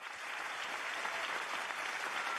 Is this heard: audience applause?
yes